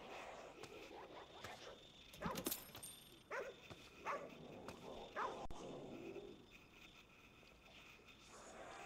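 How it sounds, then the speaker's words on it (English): Dog barking in the video game Ghostwire Tokyo: a few short, faint yips and barks scattered over a low ambient game background, with no talk. "Where's the doggy?"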